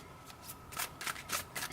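Tarot cards being shuffled close by, in several quick riffling bursts spaced a few tenths of a second apart, quiet and without talk.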